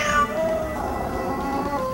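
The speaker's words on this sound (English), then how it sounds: "It's a little bit of a purr and there's a little bit of a growl." During a veterinary exam, a cat gives a low, drawn-out growl mixed with a rumbling purr, close and fairly loud, with a brief louder sound at the start.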